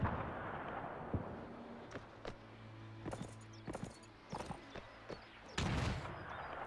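Artillery fire in the WW1 video game Between Empires: scattered sharp distant booms and thuds at irregular intervals, with a heavier blast near the end over a low rumbling battlefield background.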